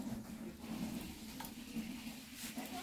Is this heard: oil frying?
yes